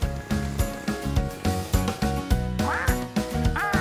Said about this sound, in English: That's Dylan the duck.